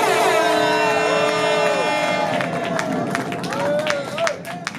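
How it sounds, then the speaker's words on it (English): A crowd at a meet-and-greet cheers and calls out with voices rising and falling, while scattered clapping breaks out and grows denser toward the end, steady and fairly close. "if you got it in your heart to give me a round of applause"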